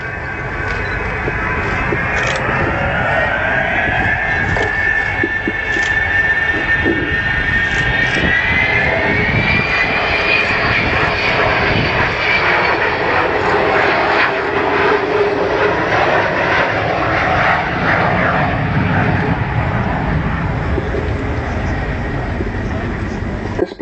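The Avro Vulcan XH558 bomber makes a display flight, its jet engines a loud, continuous roar with a rising and shifting whine, heard under a commentator's voice.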